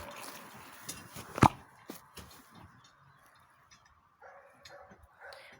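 A single sharp dog bark rings out once amid quiet rustling and a few faint knocks, followed by soft background noise.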